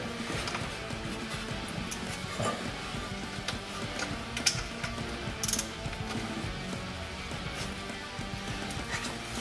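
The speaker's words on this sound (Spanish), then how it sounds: "Bueno, vamos a poner ahora el tornillo." Mechanical ratcheting clicks from a wrench tightening the gearbox drain plug on a BMW E46 during a transmission oil change, a steady close run of small ticks and metallic rattles with no talk.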